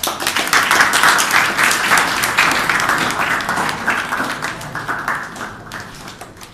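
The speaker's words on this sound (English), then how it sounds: "Clapping." A small audience claps after a physics project demonstration on conservation of momentum, with brisk, close clapping that is strong at first and gradually thins out toward the end.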